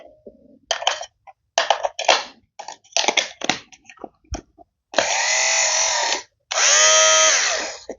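Philips GC026 electric fabric shaver and a cheap lookalike lint remover switched on and off in short bursts, then two longer steady buzzing whirs, close and fairly loud, with no talking.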